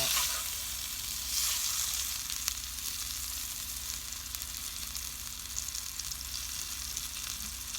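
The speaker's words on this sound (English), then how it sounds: "we'll brown it. We want each side to be brown." Meat for an oven pot roast browning in a pan, a constant close sizzle with light hissing crackle, steady throughout with no talk.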